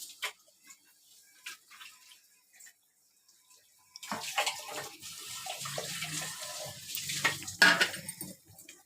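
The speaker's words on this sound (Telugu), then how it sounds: "ఇంకంతా నీళ్ళు పోసేస్తున్నాను." After a quiet opening with faint clinks, water rinsed from a masala jar is poured into a stuffed brinjal curry, bringing a burst of splashing and bubbling sizzle in the pan.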